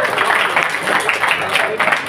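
An audience at a law faculty anniversary ceremony claps in a brief burst of applause, close and lively, with a voice speaking over the clapping.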